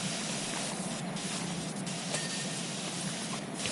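Pressure washer spraying a tractor's wheels in the video game Power Wash Simulator 2, a loud continuous close hiss of water jet with slight fluctuations, no talking over it.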